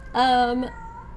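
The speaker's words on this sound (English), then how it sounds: "Please excuse the very upset cat yelling in the background if you can hear her." A loud, drawn-out cat yowl, close and strained, lasting under a second and then fading to quiet background noise.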